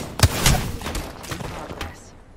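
A quick burst of sharp gunshots from the mobile game Apex Legends Mobile, a few cracks close together at the start, then a couple of fainter shots trailing off.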